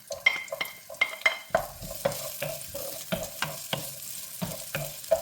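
Onion sautés in oil, a soft sizzle punctuated by a regular series of sharp stirring scrapes and taps, close and fairly quiet.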